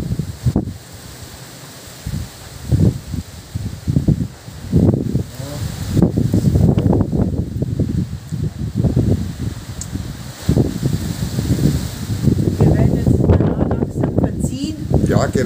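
Strong wind at a house in Hungary gusts through walnut tree leaves, a loud continuous rushing and rustling with heavy buffeting on the microphone, rising and falling in surges.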